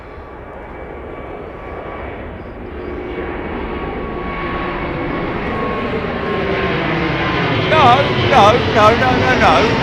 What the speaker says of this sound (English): Wow, look at that beautiful jetliner,